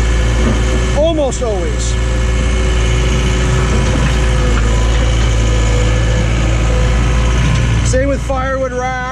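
A John Deere 317 skid loader's engine runs at a steady, loud rumble while it pushes cold, fluffy snow around, with someone talking over it throughout.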